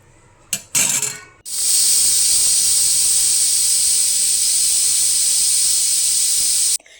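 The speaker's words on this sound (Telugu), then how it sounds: "సో కుక్కర్లో టూ విజిల్స్ వస్తే సరిపోతుంది" A pressure cooker on the stove, cooking gongura pulao, lets off a loud, steady jet of hissing steam for several seconds after a couple of short bursts, then cuts off abruptly.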